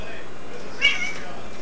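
A single short, high meow from a cat, heard briefly against a steady background hum.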